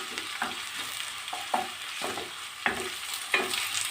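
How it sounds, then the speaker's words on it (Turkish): Onions sizzle in a hot pan while a utensil scrapes and stirs them, the stirring strokes landing in a steady rhythm of about two per second over a constant fry hiss, close and with no voices. "Soğanlarımı şöyle güzelce kavurdum arkadaşlar."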